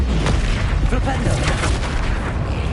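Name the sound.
Flipendo spell cast in video game Hogwarts Legacy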